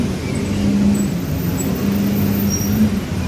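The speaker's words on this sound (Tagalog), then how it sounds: "Carino Highway traffic situation sa oras na ito." Steady traffic on Carino Highway, with the low rumble of engines from cars and buses moving by, plus faint higher tones from passing vehicles, all continuous and moderately loud.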